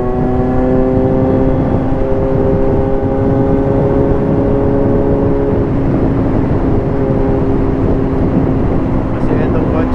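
A Kawasaki Z900 motorcycle with its breadbox removed revs and drones loudly and steadily up close, its exhaust pitch rising and falling over ten seconds with passing traffic and wind noise, while a rider talks over it.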